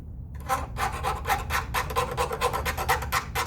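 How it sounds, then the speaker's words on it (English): Steady rasping strokes of a metal file across an edge, repeated in a quick even rhythm, close and fairly loud with no voices. "So I can file on that edge until"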